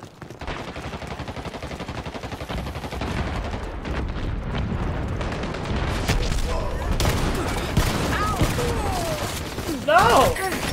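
Rapid gunfire in the Dirty Bomb shooter game, dense repeated shots in a continuous barrage with a louder burst near the end.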